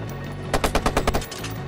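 Rapid automatic gunfire from the video game Watch Dogs, a short burst of about eight quick shots in a tight rhythm, loud and close with nothing else over it.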